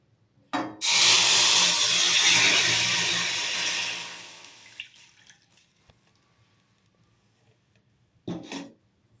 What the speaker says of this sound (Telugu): ఇప్పుడు ఒక పావు లీటర్ పాలు పైనే క్రీమీ మిల్క్ తీసుకుంటున్నాను. తీసుకుని పోసేస్తున్నాను.